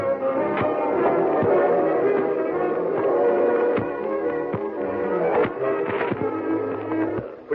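A moving train in an old-time radio drama rumbles steadily throughout, a continuous low clatter with rhythmic knocks of wheels over rail joints, heard close and alone with no talk.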